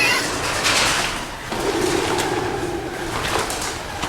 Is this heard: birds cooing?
yes